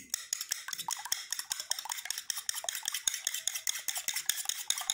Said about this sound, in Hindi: मैंने एक प्याली ली है, इसमें ऐड करेंगे 1 एग। अब इसे अच्छे तरीके से मिक्स करेंगे।